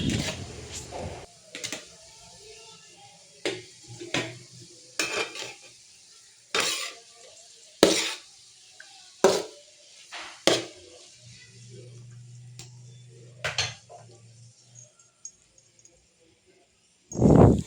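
Cooked rice tipped into a pan of fried vegetables for veg fried rice and stirred, a series of sharp metallic spoon scrapes and clanks against the pan at uneven intervals, fairly close, with quiet gaps and a brief low hum between strokes.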